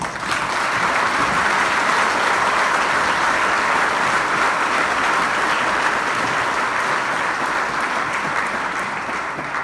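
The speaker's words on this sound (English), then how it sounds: "give them all a round of applause" Loud, sustained applause from a large crowd at a sports awards ceremony, steady clapping filling the whole stretch without pause.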